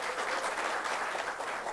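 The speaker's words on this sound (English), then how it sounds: "Can you clap for yourself?" Audience at a leadership workshop clapping for themselves, steady dense applause from many hands throughout, moderately loud with no speech over it.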